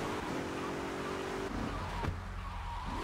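A car engine in the video game GTA: Vice City hums steadily, with a sustained tonal whine that drops away midway and a brief tire squeal, close and continuous under game ambience.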